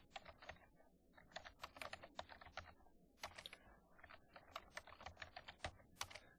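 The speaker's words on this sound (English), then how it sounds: "we're going to type our name in here." Rapid bursts of keystrokes on a computer keyboard as a name is typed into a spreadsheet cell, irregular clicks and clacks close up with brief pauses between words, no talking.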